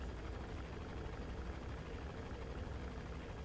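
Helicopter rotor and engine drone in the video game Metal Gear Solid 5, a steady loud broadband whir held throughout with no talk.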